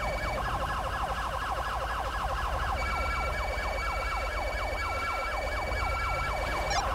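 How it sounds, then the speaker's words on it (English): Police sirens wail continuously in GTA 5, a rapid rising-and-falling electronic yelp that repeats without a break and stays loud and close throughout. "Sorry about the sirens"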